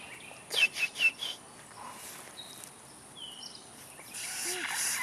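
A bird gives a quick series of about four close, bright chirps, then a quieter stretch with faint scattered calls and small background sounds.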